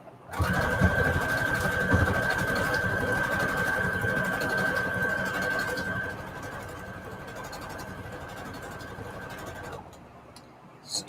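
A sewing machine runs steadily, stitching scallop stitches on cardstock with lace fabric, a close, continuous mechanical whir with a faint steady whine that drops slightly in level before stopping near the end.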